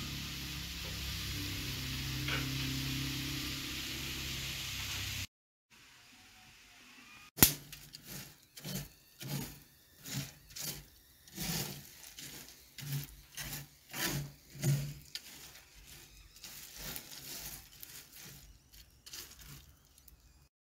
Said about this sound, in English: here's my last batch of seeds that I'm toasting